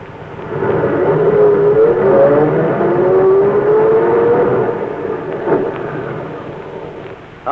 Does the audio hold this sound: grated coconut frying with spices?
no